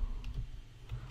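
Typing on a computer keyboard, a few quiet, quick key clicks close up over a soft low background hum.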